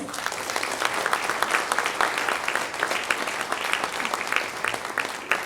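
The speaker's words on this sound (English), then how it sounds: "Ladies and gentlemen, please help me by giving her also a round of applause." Sustained applause from a graduation ceremony audience, dense steady clapping throughout, loud and close, with no one speaking over it.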